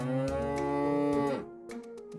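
A cow moos in one long, loud, harmonic low bellow that bends and fades, close by and heard alone.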